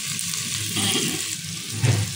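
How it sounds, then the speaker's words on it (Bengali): Ground spices such as turmeric, cumin, coriander and chili powder sizzle steadily in hot oil, with stirring scrapes and a brief louder crackle near the end, fairly close and with no voices. "ধনে গুঁড়ো আর শুকনো লঙ্কা গুঁড়ো ভেজে নেব"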